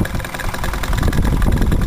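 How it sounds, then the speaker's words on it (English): A small steam engine drives a DC power circuit with lights and a buffer capacitor, giving a close, loud, rapid chugging and knocking rhythm that runs continuously. "Kill the steam engine."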